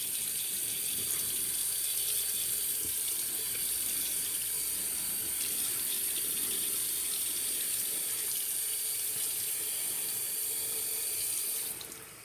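Tap water runs steadily from a faucet onto a shaving brush in a sink, a constant close hiss and splash that continues alone before cutting off at the end.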